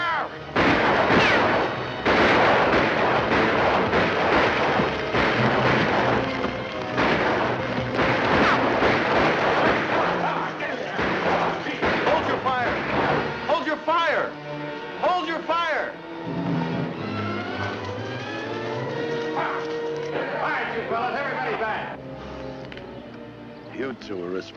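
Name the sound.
gunfire in 1951 Folsom Prison film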